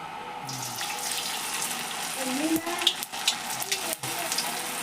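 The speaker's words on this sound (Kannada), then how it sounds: "ಎಣ್ಣೆ ಕಾದೈತಿ ಈಗ ಒಡೆ ಹಾಕೊಂಡ್ರಿ" Sabudana vada dropped into hot oil, a steady bubbling sizzle up close with a few clinks and brief shifts in the frying noise.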